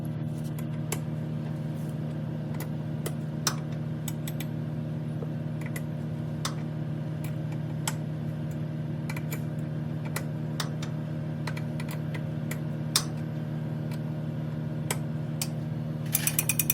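A ratchet wrench with a 5/8 socket cranks a nut on the steering of an Earth & Turf Model 410-SP walk-behind mower, giving rapid steady clicking over a constant low engine-like hum.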